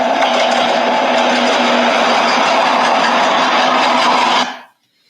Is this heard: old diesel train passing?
yes